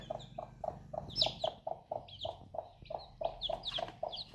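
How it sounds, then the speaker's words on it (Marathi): Rhythmic clucking from a hen in a village yard, a quick series of short, regular calls at moderate distance, soft in level with some higher chirps mixed in and no talking. "बरोबर माहिती ती आवाज करते ना कोंबडी"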